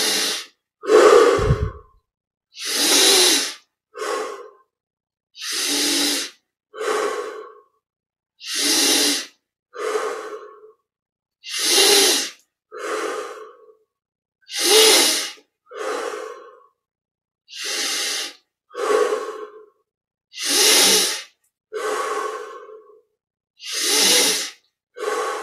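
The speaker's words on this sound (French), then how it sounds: "on inspire profondément." Slow, deep breathing during a meditation exercise: steady rhythmic inhales and exhales, roughly a dozen breath cycles with short silent gaps between, close and clear with no speech.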